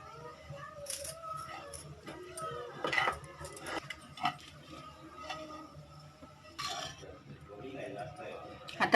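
Roasted grated coconut for a Diwali karanji filling is scooped out of a pan. A spoon scrapes and clinks against the metal in scattered, uneven bursts, fairly quiet, with a voice talking in the background.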